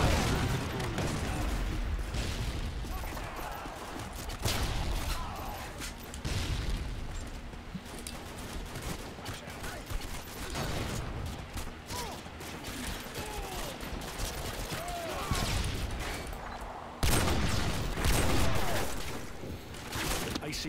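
Gunfire in the video game Call of Duty Modern Warfare 2 multiplayer, rapid bursts and single loud shots with booms repeating throughout, mixed with someone talking over the action.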